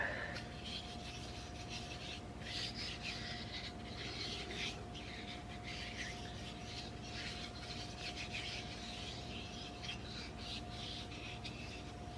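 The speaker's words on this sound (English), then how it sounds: "So this way if I have any leftover, I'll just rub it onto the cutting board." Leftover mineral oil being rubbed by hand onto a wooden cutting board, a continuous soft rasping friction with rhythmic strokes, close up and steady with no voices.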